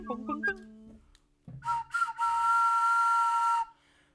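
A whistle blown a few times in short bursts, then held in one long steady shrill note, following some brief indistinct sounds in a room.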